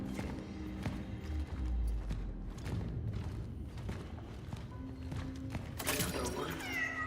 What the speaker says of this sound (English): You hear the cat again.